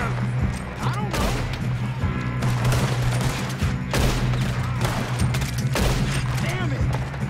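Rapid gunfire bursts in a Red Dead Redemption 2 shootout, several volleys crackling over a steady low musical drone, with shouted voices mixed in between shots.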